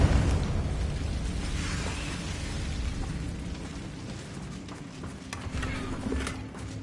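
A Confringo fire spell blasting in Hogwarts Legacy, heard as a continuous loud rumbling roar of explosive bursts and crackling debris that swells and fades over several seconds.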